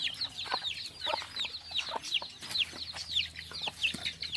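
Pla breed chickens kept in a cage cluck in short repeated bursts, a steady chorus of fairly close calls with no talking.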